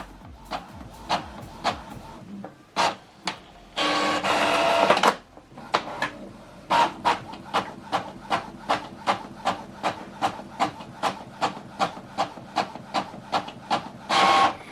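An Epson XP 5200 printer running a double-sided copy job, with regular mechanical clicks and ticks, a burst of whirring paper feed, then a long steady series of evenly spaced clacks, close by.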